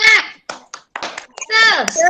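Children chant in unison in a classroom, punctuating the rhythmic chant with sharp hand claps in short bursts between voiced phrases.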